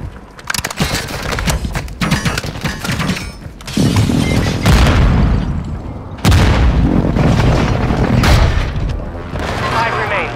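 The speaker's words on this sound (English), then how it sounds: "Hostile airstrike near your location." An airstrike in Call of Duty: Modern Warfare II brings loud, heavy booms that roll into sustained rumbling blasts, with sharp bursts stacking on top, close and dense for the whole stretch as a voice speaks at times.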